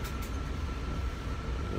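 Riding a Long Island Rail Road train: a steady low rumble and rolling hum of the carriage fills the interior continuously, with no other distinct events.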